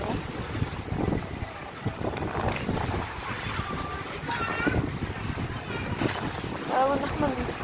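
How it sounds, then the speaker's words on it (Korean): Sea waves breaking and washing near the shore on a windy day, a continuous rushing surge with wind buffeting the microphone, while people talk over it. "파도가 살짝 많이 치네요."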